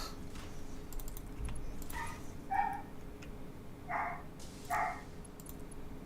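A pet dog barking in the background of a home recording, with several short, separate barks spread over the span, fairly faint behind room noise.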